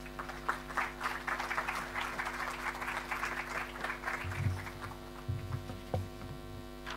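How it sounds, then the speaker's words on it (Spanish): Audience applause at an education seminar in a hall, a steady patter of clapping spread across the room, moderately loud over a constant electrical mains hum. "Un gran aplauso para él."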